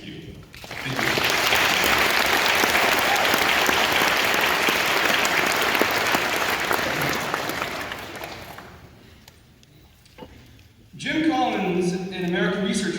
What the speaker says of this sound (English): the least we can do is offer up this round of applause for you